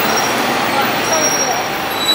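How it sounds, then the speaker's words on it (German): A bus passes on a London street near St. Paul's Cathedral, a loud broadband roar of engine and road noise with a faint high whine, steady throughout. "Noch ein Bus?"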